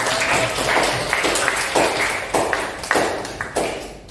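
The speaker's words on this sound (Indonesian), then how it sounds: "Kita berikan tepuk tangan untuk kita semuanya." A classroom group claps together in about six short bursts of applause with brief gaps between them, fairly loud and close.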